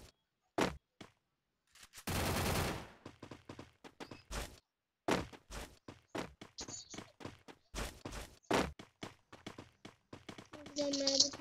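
A shotgun fires in a video game, a single loud, broad burst heard among scattered sharp game noises, while someone talks in between.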